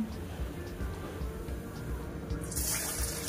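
Potato kabab pieces deep-fry in hot oil with a steady, close bubbling sizzle that swells into a brighter hiss near the end.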